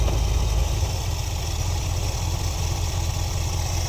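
A 1973 Ford Econoline with an Edelbrock carburetor idles at about 800 RPM, a steady low rumbling engine drone with even pulsing, close and unbroken, no speech.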